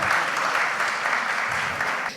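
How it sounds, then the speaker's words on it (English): Applause from a nursing leadership conference audience, a dense, steady round of clapping from many hands in a large hall that holds level for about two seconds before trailing off. "Big round of applause for each other."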